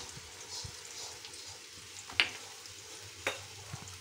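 Grated raw mango sautéing with salt in a pan, a faint low sizzle with a couple of sharp utensil taps, quiet and close with no voices.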